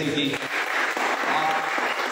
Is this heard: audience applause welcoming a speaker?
yes